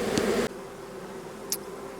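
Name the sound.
honeybees buzzing at the hive entrance after the swarm was shaken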